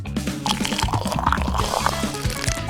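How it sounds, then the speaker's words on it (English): Water poured into a small eggshell bathtub holding water beads, a short stream of trickling, filling and dripping sounds, close and fairly clear. "Add some water beads and, of course, water."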